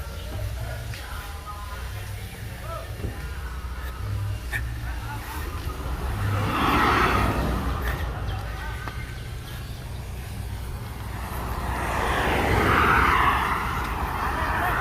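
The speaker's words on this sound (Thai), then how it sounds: "โอ้เสียงเครื่องดีเลย" A large engine runs with a steady low rumble that swells louder twice, with faint voices in the background.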